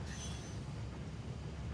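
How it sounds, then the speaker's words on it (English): Nuclear-powered train in the Factorio game with the Krastorio 2 mod, a steady close rumble of rolling rail wheels with faint high squeal, continuous and without speech. "there's my new nuclear train"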